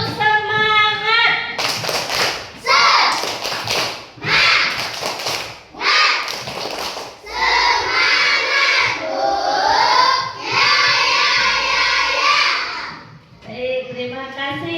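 A first-grade class performs the 'tepuk semangat' spirit clap, with bursts of rhythmic clapping alternating with children chanting together in a classroom, close and loud.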